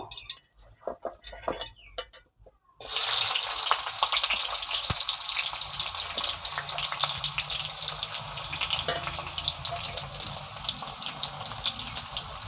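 Thinly sliced onions drop into hot oil in a village-style kitchen, and after a few scattered clatters a sudden loud hiss breaks out and settles into a steady, bright frying sizzle.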